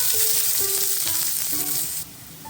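Chopped small onions sizzle and fry in groundnut oil, a steady crackling hiss with occasional stirring scrapes, loud and close, with no talk.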